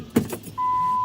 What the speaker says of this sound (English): let me roll down the window.